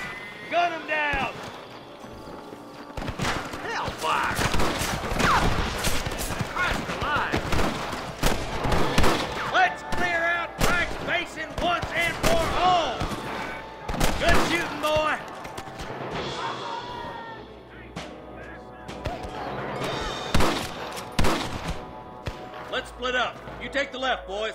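A Red Dead Redemption 2 shootout with rustler guards: repeated sharp gunshots crack amid horse hoofbeats, with voices shouting and talking throughout.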